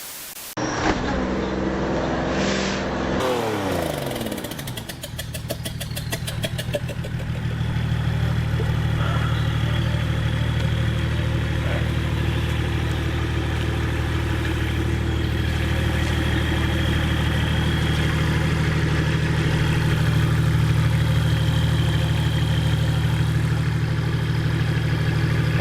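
A car engine idles steadily at low pitch for a long stretch, preceded by a few seconds of clattering and shifting noise at the start; the hum is even, moderately loud and close, with no talk over it.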